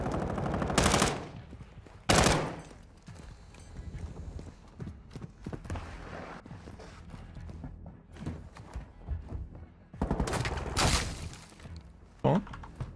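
Gunfire in Modern Warfare 2 (2022), several loud close bursts of rapid shots separated by quieter stretches of scattered impacts, with a voice talking underneath at points.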